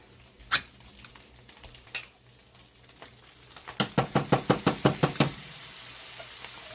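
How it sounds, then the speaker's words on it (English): Canned tomatoes go into a cabbage roll casserole with a few scattered knocks and clunks, followed by a quick run of rhythmic metallic tapping, like a can being shaken or scraped out over the pot. "go ahead and add this can of tomatoes"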